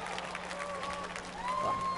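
An esports crowd at MLG Dallas 2011 applauds and cheers for a Halo player during a championship match, steady broadband clapping over an arena din, with a commentator talking over it.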